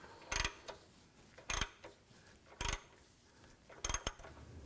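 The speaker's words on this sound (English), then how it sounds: "And we'll tighten this up." Ratcheting and clicking as a new downstream oxygen sensor is tightened on a 2011-2019 Ford Police Interceptor Utility, heard as four short metallic bursts spaced about a second apart with quiet between them.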